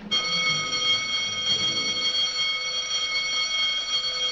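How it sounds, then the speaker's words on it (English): A continuous electric bell rings loudly and steadily for several seconds, a sustained metallic buzzing tone with no pauses. "Who's ringing that bell? Stop that noise!"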